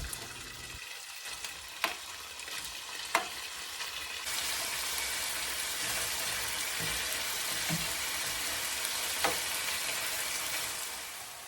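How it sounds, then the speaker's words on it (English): Nugget-sized chicken pieces pan-fry on medium heat with a steady, close sizzle that swells louder after a few seconds, broken by a few sharp taps and stirs and no one talking. "I just cut it into nugget-sized pieces, pan-fried them on medium."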